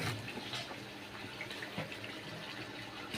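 Water from a pot of cooked rice being tipped out to drain in a home kitchen, a steady continuous splashing and pouring rush that runs the whole time, fairly close, with no talking.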